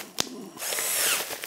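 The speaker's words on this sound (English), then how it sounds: "let's now try the smaller brad point." A power drill with a small brad point bit bores through a workpiece in a workshop: a sharp click, a brief pause, then a rising whirring drill run that grinds steadily and tapers off, close and loud.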